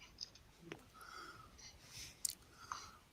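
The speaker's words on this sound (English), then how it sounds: "I'm just munching on peanuts." Someone munching on crunchy peanuts, with quiet, faint chewing clicks and crunches scattered across a few seconds alone, no talking.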